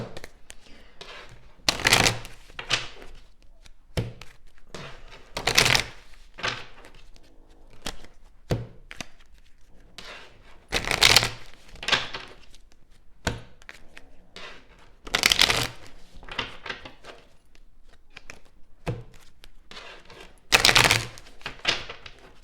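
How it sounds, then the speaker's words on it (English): Cards riffle and snap together in several quick bursts, separated by quieter handling and tapping sounds, close and fairly loud. "let me shuffle them."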